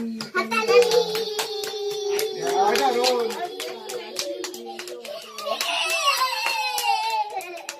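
Sharp hand claps come in scattered bursts among children's voices and chatter, close and mixed, with some louder groups of claps near the middle and the end.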